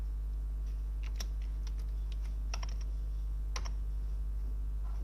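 Code being typed on a computer keyboard in quick, irregular bursts of light clicks, near and fairly quiet over a steady low electrical hum.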